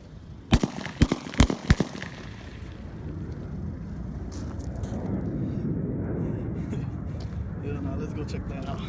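Several sharp firework bangs going off on a pumpkin burst close together in the first two seconds, followed by a steady outdoor rumble with people talking.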